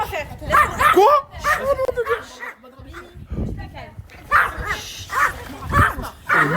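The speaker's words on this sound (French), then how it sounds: "Pourquoi t'aboies, tu fais 2 kilos?" Small dog of about two kilos barking indoors, a run of sharp yips and whimpers close by, mixed in with people talking over it.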